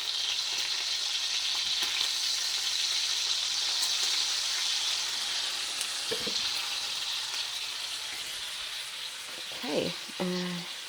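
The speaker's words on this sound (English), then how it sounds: "I'm just flipping my bacon." Bacon sizzles and fries steadily in a pan, a close continuous hiss, with a couple of brief clatters near the end as the strips are flipped.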